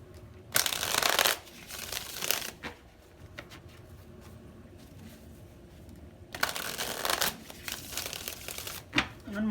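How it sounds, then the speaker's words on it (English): Tarot cards being shuffled in two loud crisp riffling bursts, with softer card handling and rustling between them, close up. "One more shuffle."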